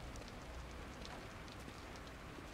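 Steady rain in the horror video game The Evil Within, a dense, even hiss of falling drops with faint patters, continuous and quiet with no other sound on top.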